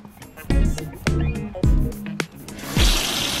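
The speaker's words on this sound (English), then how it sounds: "Now getting some nice hot water, you can see the steam rising up off that." Hot water pours into a car wash bucket already holding shampoo and a grit guard, starting as a few knocks and splashes, then a steady close rush of filling water near the end.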